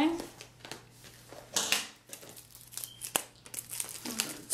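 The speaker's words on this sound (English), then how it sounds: "I'm going to cut this plastic off first." Plastic shrink wrap crinkles and tears close up as it is cut and peeled off a music album. Irregular crackles and rustles come in short bursts, with faint voice-like sounds underneath.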